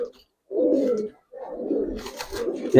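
Two Giribaz pigeons coo close by in a few soft, throaty bursts separated by short pauses, with no talking.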